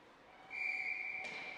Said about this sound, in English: Referee's blowing the whistle, saying let's get this thing going.